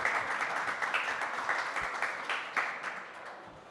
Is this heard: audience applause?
yes